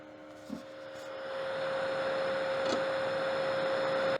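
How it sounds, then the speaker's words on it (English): A countertop food scrap composter runs with its grinder spinning inside and a fan humming, a steady whooshing drone with a faint tonal whine that swells slightly after a small knock near the start, quiet and continuous. "I can hear it spinning in there, because remember there's a little grinder stuff here at the bottom"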